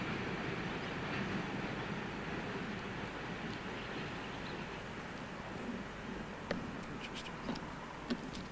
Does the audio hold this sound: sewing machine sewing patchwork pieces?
no